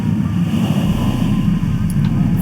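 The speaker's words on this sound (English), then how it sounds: "a little bit of wind" Steady wind buffeting the microphone during a motorcycle ride in mild weather, a loud continuous low rumble with no break, close and dominant.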